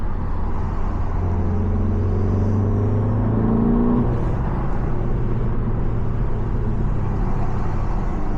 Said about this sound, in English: you put it in sport mode